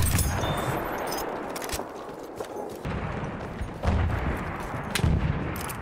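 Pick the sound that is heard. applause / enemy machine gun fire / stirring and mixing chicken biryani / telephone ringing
enemy machine gun fire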